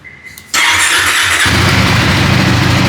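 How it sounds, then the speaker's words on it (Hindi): A 2025 KTM 390 Adventure X Plus motorcycle cranks briefly and fires up, its engine settling into a loud, steady, throbbing idle at close range. "तो इसके एग्जॉस्ट के साउंड आपको एक बार हम इसको एग्जॉस्ट के साउंड सुना देते हैं।"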